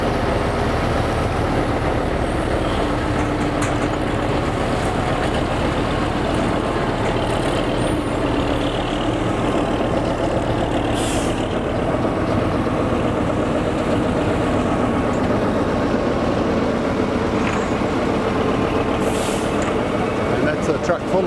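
A heavy truck engine, loaded with about 20 tonnes, rumbles steadily and loudly throughout, with low droning tones, occasional hiss bursts like air brakes, and voices talking underneath.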